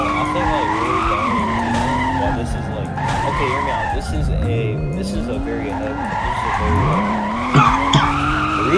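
Car drifting with traction control off at a private midnight drifting event, tires skidding and squealing continuously over a loud engine whose pitch rises and falls with throttle, close and steady throughout, while a person talks over it.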